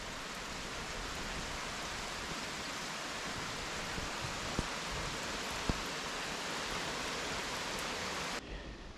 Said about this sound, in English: it's just been solid rain ever since we've been here